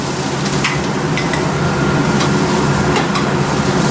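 Thai curry paste hits a hot pan at the start of a vegetable stir fry, setting off a loud, constant sizzle with faint scraping from stirring.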